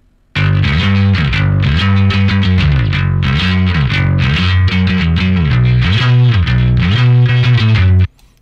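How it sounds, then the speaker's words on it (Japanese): Bass played through a SansAmp bass driver with its output turned up, giving a strongly distorted, gritty tone; a continuous riff of repeated notes runs loud and steady for about eight seconds, then stops. "ここのサンズアンプのね、こう BOD に入ってくる出力自体が大きいので、こう歪み方も結構強くなって、かっこいい音によりなるわけですね"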